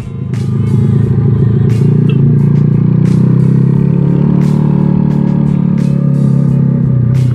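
A Yamaha Jupiter Z 115cc with a loud CLD Racing brong exhaust swells up to a heavy, rumbling idle-rev near at hand, a thick low engine drone with mechanical clatter that stays strong and even to the end.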